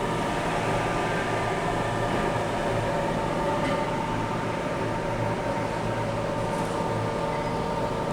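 Constant whooshing roar of a high-pressure blower driven by a 20 horsepower motor at 3,500 RPM near a brick kiln entrance, steady and moderately loud with a faint tonal hum, no voices.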